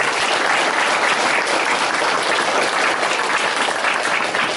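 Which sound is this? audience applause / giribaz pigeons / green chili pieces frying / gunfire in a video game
audience applause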